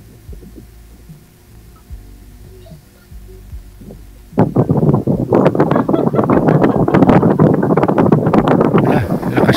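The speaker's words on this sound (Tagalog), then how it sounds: "Maingay yung electric fan." Low hum and soft thumps at first, then a sudden loud burst of rushing wind from an electric fan buffeting the microphone, roaring steadily to the end.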